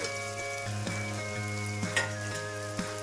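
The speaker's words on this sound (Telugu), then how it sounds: "వేసుకొని బాగా ఒక రెండు నిమిషాలు వేయించుకోవాలి" Cut pieces of taro root fry in hot oil in a pan, a steady close sizzle with a few light clinks of stirring and no voices.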